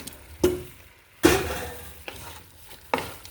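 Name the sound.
mixing chicken kabsa ingredients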